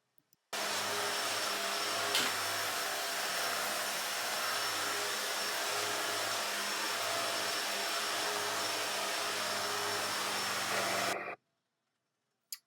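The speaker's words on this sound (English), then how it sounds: "So I need to run the vacuum under the bed because of dust." A vacuum cleaner is pushed under a bed and runs as a loud, steady whine for about eleven seconds, then shuts off abruptly, leaving near silence.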